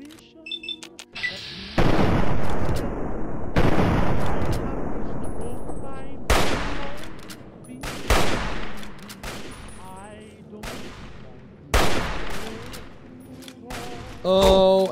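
Heavy gunfire in Fallout 3, a series of loud booming shots spaced a second or two apart, each with a long ringing decay, some clustered into quick bursts, close and dominant.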